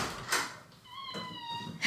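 Gnocchi, a pet cat, lets out a thin, drawn-out squeaky call, close and fairly quiet, between soft indoor knocks and rustles.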